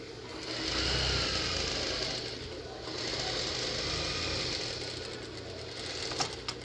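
A sewing machine runs close by, stitching a seam in fabric in two sustained whirring bursts with a short pause between, then a few clicks as it slows at the end; no talking.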